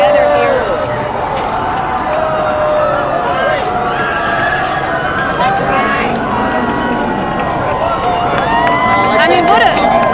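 A crowd of protesters walks and converges outside the White House in Washington DC. There is continuous shuffling footsteps and crowd murmur at moderate distance, with a voice talking over it throughout.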